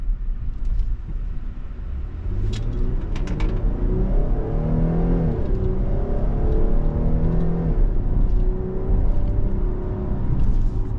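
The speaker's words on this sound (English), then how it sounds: "Nice shifting out of this 8-speed automatic, whether it's shifting on its own or whether you got the paddles, sport mode." A 2025 Dodge Durango GT Plus AWD SUV accelerates with its 8-speed automatic. The loud engine note climbs and steps down at each gear change, repeating in a smooth cycle, heard up close from inside with no talk.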